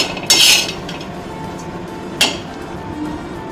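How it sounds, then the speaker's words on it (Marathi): Ground masala being scraped out of a steel mixer jar in a home kitchen, heard as two sharp metallic clinks of a spoon against the jar, one near the start and another about two seconds later, with quiet scraping between. "बघा, हे मसाला काढला आहे मिक्सरमधनं."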